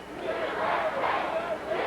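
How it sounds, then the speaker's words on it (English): A crowd at a 1985 Portland professional wrestling event chants together in a loud, massed roar of many voices. It swells rhythmically with the chant over a continuous arena hubbub. "Now the crowd's starting their USA chant."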